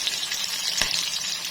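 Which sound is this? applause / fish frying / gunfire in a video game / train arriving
fish frying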